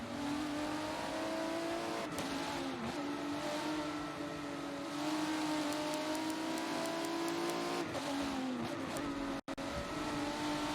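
A race car engine in a sim racing video game holds a steady, high drone, with brief dips as it slows for corners and a faint tire squeal.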